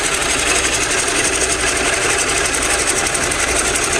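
A coring cutter on a lathe bores into a large walnut blank, giving a steady, loud, dense grinding hiss with a fast rhythmic chatter that runs unbroken throughout.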